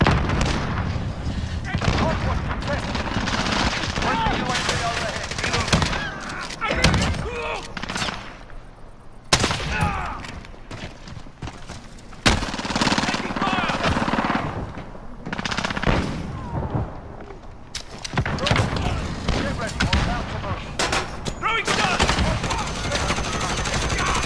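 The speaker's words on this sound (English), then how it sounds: "I was just shooting" Gunfire from a Warzone multiplayer match, with dense bursts of automatic weapon fire and sharp shots rattling almost continuously and loudly, broken by brief lulls, while game voice announcements and players talk over it.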